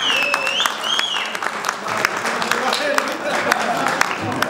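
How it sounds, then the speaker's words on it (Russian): A wedding audience breaks into sustained applause, dense clapping close by, while voices talk over it and a few whistle-like tones cut through. "Браво, аплодисменты."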